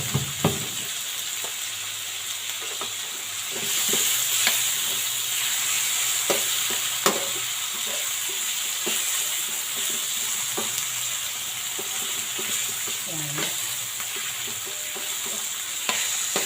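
Tomatoes sizzle in a frying pan with onion as they are mashed down, a steady hiss of frying broken by intermittent scraping and pressing taps from a utensil, with no talking.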